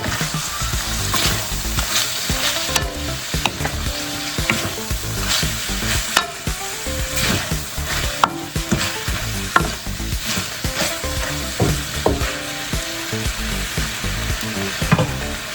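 Pork dinuguan sizzling and frying in a pan while being stirred, a loud continuous crackle broken by repeated scraping clinks of the utensil against the pan.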